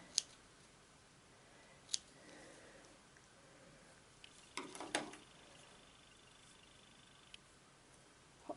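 Scissors snipping fabric for a 3D textile piece with wire, a few faint isolated clicks spread apart with a small cluster of snips in the middle, quiet and close.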